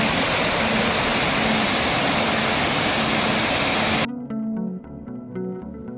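Kothapalli waterfall near Araku roars with a loud, dense, steady rush of falling water, then cuts abruptly to quieter scene sounds near the end.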